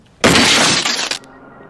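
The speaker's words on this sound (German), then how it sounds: "Irgendwas explodiert." A sudden loud crashing burst, like something exploding and shattering, lasts about a second before cutting to quieter background, in the video game Generation Zero.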